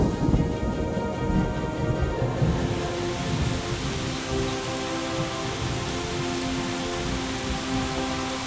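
Heavy downpour drums steadily on surfaces during Peru's rainy season, with low rumbles of thunder rolling beneath; the wash of rain grows denser after the first few seconds and stays loud and continuous throughout.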